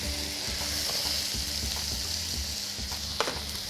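Balsamic vinegar and sun-dried tomato puree being stirred in a hot pan, a steady close sizzle with soft scraping stir strokes and a brief louder clink near the end.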